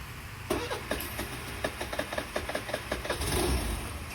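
A Suzuki Burgman scooter engine with a fuel-injection check-engine fault cranks and catches, sputtering into a rapid, uneven putter close by, with a clank near the start.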